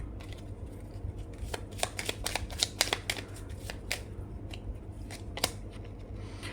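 Tarot cards being shuffled and drawn close up, a fast run of riffling flicks and snaps that peaks in the middle and then eases into a few separate card slaps.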